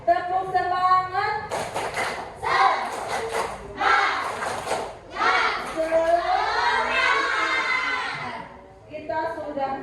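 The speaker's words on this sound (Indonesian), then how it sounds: "Kita tepuk semangat ya, biar tetap semangat." A classroom of children performs a rhythmic clapping chant, tepuk semangat, with bursts of claps in steady patterns and voices chanting along loudly and close, led by a teacher's voice at the start and end.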